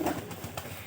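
A visiting pigeon gives a short, soft coo close by, brief and fairly quiet against a faint background.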